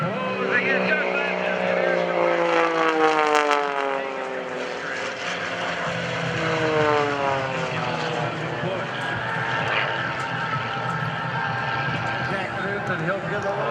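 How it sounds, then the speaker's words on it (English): Two aerobatic propeller planes, an MXS and an Extra 300L, cross low over an airshow crowd. Their engine tones rise and fall in sweeping whines as they close in and pass, with a commentator talking over the noise. "MXS and Extra 300L. They're going to line up and try to cross right here at Airshow Center"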